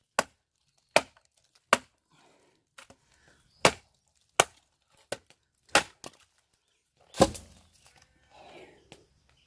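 A Trakker knife, a TOPS or BR model, chops into wood with about eight sharp, close strikes at an uneven pace, each a crisp crack, with quieter knocks and rustling between them.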